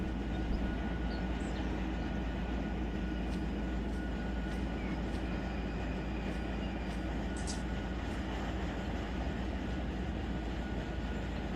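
Coal train hauled by SD70ACe diesel locomotives, moving slowly at about 11 mph on a slight grade, giving a steady, continuous rumble and rolling wagon noise throughout, with no voices.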